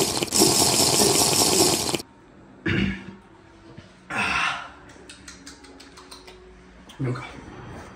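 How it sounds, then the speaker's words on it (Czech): Water pouring from a tap into a container to mix a pre-workout drink in a gym setting: a loud, steady gushing rush for two seconds, followed by scattered clicks, knocks and brief rustles. "Napouštím si pre-workout."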